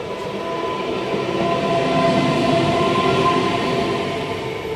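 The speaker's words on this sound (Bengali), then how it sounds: "দেখতেই পাচ্ছ একটি ট্রেন যাচ্ছে" A train rolls past close by in Kumartuli, Kolkata, with a loud, steady rumble and metallic hum that swells slightly in the middle before easing.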